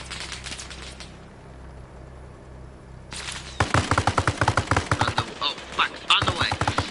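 Coaxial machine gun in the game Arma Reforger firing at troops: after a quiet stretch, a loud, close sustained burst of rapid automatic fire rattles on for several seconds in a fast, steady rhythm.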